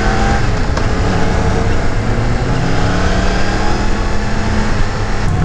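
A 2018 Yamaha MT-10 motorcycle engine drones loud and steady while the bike is ridden, under heavy wind rush, holding a fairly even pitch with no talking.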